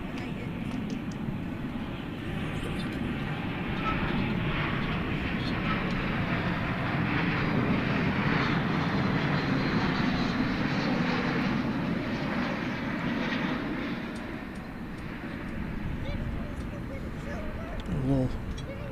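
An American Airlines Airbus jet, flight 777, rumbles with a steady broadband engine roar at DFW Airport at night, moderately near and sustained throughout, with a person talking over it.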